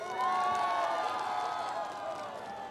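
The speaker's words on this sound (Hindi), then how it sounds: "सर के लिए एक बार जोरदार तालियां." Crowd cheering and whooping at the Voice of Upper Subansiri 2016 grand finale singing contest, a steady loud roar with high shouts held throughout, with no clear clapping standing out.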